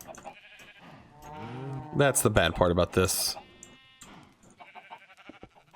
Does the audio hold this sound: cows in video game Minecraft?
yes